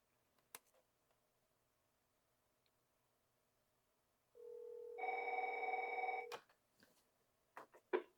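A telephone rings on a call dialed through an Excelltel MS208 PBX: a single steady electronic ring burst of about two seconds, fairly faint, between a few soft clicks and handling knocks.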